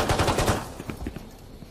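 A rapid burst of automatic gunfire sounds during a Valorant esports match between Envy and KRÜ at VCT 2021 Stage 3 Masters Berlin. The shots are loud and close, then a few sparser shots fade out.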